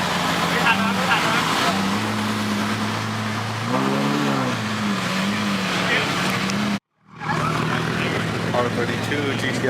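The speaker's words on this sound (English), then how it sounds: "Porsche GT3 RS backing up." A Porsche GT3 RS backs up in a parking lot, its engine humming loud and close with a short rising rev partway through, then a brief gap in the sound before the drone returns.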